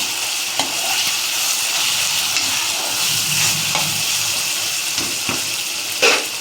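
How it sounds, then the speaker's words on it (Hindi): Chopped tomatoes frying in a pan for chicken leg masala, giving a continuous close sizzle with occasional stirring scrapes and a sharper clatter near the end, no voices. "तो मैंने सोचा कि चलो इस बार टमाटर डाल के फ्राई किया जाए।"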